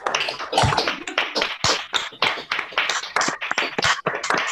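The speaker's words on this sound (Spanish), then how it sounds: "Bueno, ya están habilitados para aplaudir." Audience applause after a music performance at a concert series gathering, a dense, steady patter of many hands clapping close by for several seconds with no talking.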